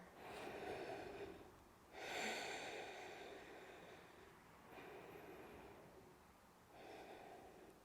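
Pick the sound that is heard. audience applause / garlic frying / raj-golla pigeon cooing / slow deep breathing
slow deep breathing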